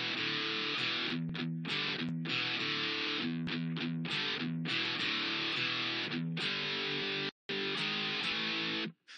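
Electric guitar playing the riff, with double stops, syncopation and palm muting: distorted, chugging rhythm with short gaps between bursts, steady and dense throughout, no voices.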